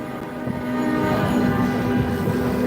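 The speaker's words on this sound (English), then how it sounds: "Oh great, horns, that's my favorite part." Loud vehicle horns blare in downtown Las Vegas traffic, a sustained, droning honk that holds for several seconds with no talking.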